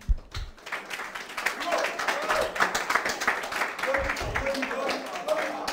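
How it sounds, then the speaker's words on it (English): A church congregation claps along in a rhythmic patter of many hands, with voices speaking over the clapping. "Clap."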